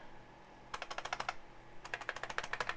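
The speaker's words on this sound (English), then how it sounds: "We'll just go through and use the keyboard." Keys clatter on an IBM PS/2 Model 80 computer keyboard in two quick bursts of typing, crisp close clicks in rapid rhythm separated by a short pause, with no talk.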